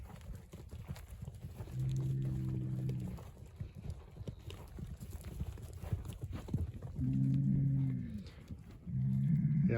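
Cattle on a farm low repeatedly, three long moos spaced a few seconds apart, fairly close and clear over quiet outdoor background, with no talk.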